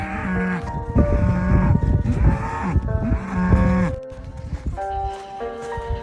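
Cattle on an Amish farm moo repeatedly and loudly, several long drawn-out lowing calls overlapping close by, with brief pauses between them and no talk.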